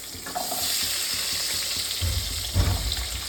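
Eggplant and pumpkin frying together in a pan of hot oil, a steady loud sizzle with a sharper crackling surge as the pieces are stirred, close up and with no voices.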